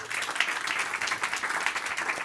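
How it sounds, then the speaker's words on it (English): Conference audience clapping warmly after a security talk, a full, continuous round of applause from a sizable crowd held at a steady level throughout. "Let's give a warm applause."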